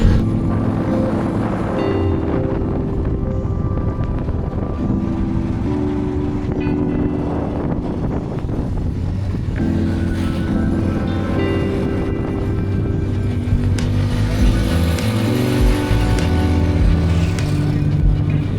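From inside a vehicle on a village road in hot Senegal, there is a continuous close engine and road rumble with rattling for the whole ride, and voices now and then beneath it.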